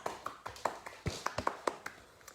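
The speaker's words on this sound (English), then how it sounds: "And give yourselves a big clap." A small group of dance-class participants clap their hands together at the end of a session, giving a dozen or so quick, uneven claps in a loose rhythm, fairly close and moderately loud with no talk.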